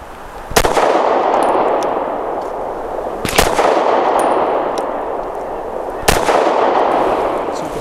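Three loud, sharp pistol shots from a Taurus GX4 9mm with a ported barrel firing Hornady Critical Defense Light 100 grain rounds, spaced a few seconds apart outdoors, each followed by a long ringing decay, with no talk.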